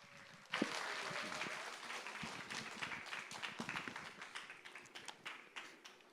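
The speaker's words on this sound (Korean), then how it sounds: "우리 앞으로 모실 때 함께 박수로 이 자리로 모시도록 하겠습니다." An audience at a church teachers' seminar claps to welcome a speaker to the stage, starting with a sharp onset and continuing as lively, uneven applause that gradually thins out.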